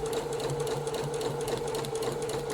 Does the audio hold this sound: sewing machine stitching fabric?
yes